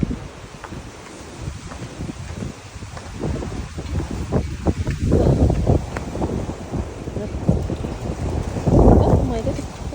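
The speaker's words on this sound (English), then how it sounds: "Oh my goodness, it's so windy." Strong storm wind gusts outdoors in a garden, roaring and buffeting the microphone in surges that swell near the middle and end, with a woman exclaiming over it.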